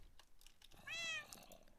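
A wither cat in the Minecraft modpack FoolCraft 3 lets out a single short, bright meow in the middle of faint background game noise and light clicking.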